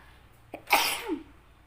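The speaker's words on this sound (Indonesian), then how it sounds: "tiba-tiba bersin" A single sharp sneeze bursts out close to the microphone, preceded by a brief intake of breath, during a spoken tarot reading.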